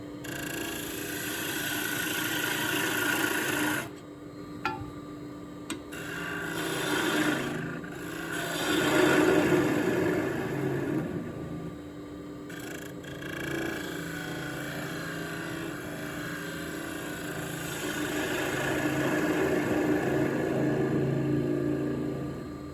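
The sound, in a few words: lathe push cut with 3/8 spindle gouge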